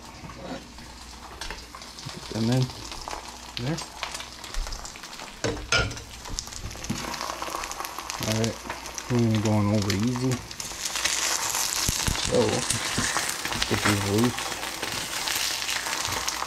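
Bacon fries in a skillet with a steady crackling sizzle that grows louder toward the end, alongside occasional stirring rustles. Intermittent talk runs over the frying.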